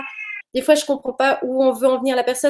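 A very large house cat gives one short, clear meow at the start, then falls silent as a person talks continuously nearby.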